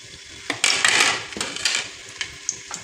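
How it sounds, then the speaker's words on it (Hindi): Gola kebabs frying in a pan of oil left from browning onions, with a series of sharp clinks and scrapes of utensils against the pan over a soft sizzle, close and fairly quiet. "तो अब इसमें हम कबाब डाल देंगे, तो इनको हम थोड़ा थोड़ा फ्राई कर लेंगे।"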